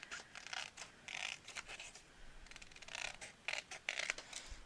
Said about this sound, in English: I'm just going to use my scissors really quick.